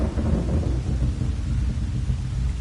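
Heavy rumble from a homemade thunder sound effect, sustained and loud across its length, a dense low roar with a hissy, storm-like wash on top.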